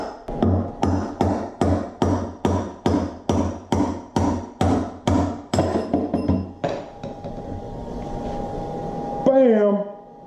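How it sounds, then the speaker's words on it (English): A hammer strikes a punch to drive out a motorcycle wheel bearing: about a dozen evenly spaced, loud metallic blows in steady rhythm, then a fading ring and a final scrape. "just start tapping the punch onto those welds that I made, and that should help the bearing come right out"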